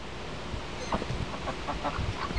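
A hen clucks softly in a few short, scattered bursts against a quiet, slightly noisy background.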